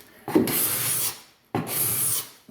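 A hand scraper drags across an oak hardwood floor in two loud, close strokes, each a steady rasping scrape about a second long, with a short pause between them.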